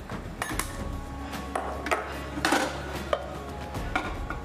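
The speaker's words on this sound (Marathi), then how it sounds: "आता कढई घेऊया." A metal kadhai being lifted in a home kitchen while cooking a dry sesame-flavoured vegetable dish, giving a series of close clanks and scrapes of cookware, with a low steady hum underneath.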